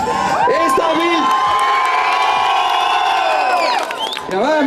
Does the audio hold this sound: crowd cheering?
yes